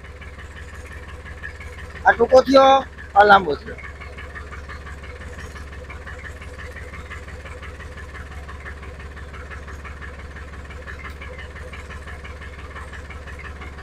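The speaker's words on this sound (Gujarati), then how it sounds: "તો હવે હું આને ટ્રેક્ટર ચાલુ કરી અને ઉપાડું" A Sonalika tractor engine runs steadily to raise a hydraulic jack, giving a low, continuous droning hum throughout, with someone speaking briefly over it early on.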